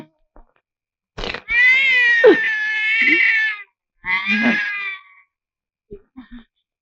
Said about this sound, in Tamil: இது பூனை